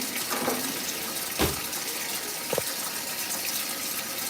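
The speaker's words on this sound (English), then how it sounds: "And then vinegar, just pour it. Just pour it in." Vinegar is poured into water to wash fruit, giving a steady, close splashing flow with a couple of brief sharper splashes, and no talking.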